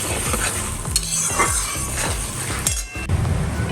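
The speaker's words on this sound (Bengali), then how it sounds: "আমি এখানে স্ক্র্যাম্বলড এগ করে নিচ্ছি।" Six eggs being scrambled in a pan for noodles, with a utensil repeatedly scraping and clinking against the pan over a steady close sizzle, stirring strokes coming in a quick, even rhythm.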